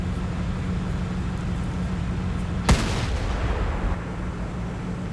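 In the World of Tanks video game, a tank cannon fires once: a single sharp, loud boom that decays over a second against a steady rumbling engine drone.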